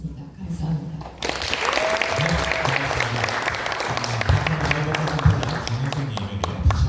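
An audience at a social cooperative's opening ceremony breaks into applause after a brief quiet lead-in, a sustained, fairly close wash of clapping over which a voice briefly speaks.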